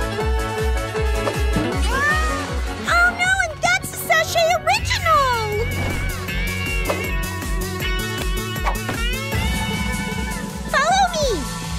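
A cartoon cat meows in short rising and falling cries over loud, busy background music in an animated L.O.L. Surprise scene.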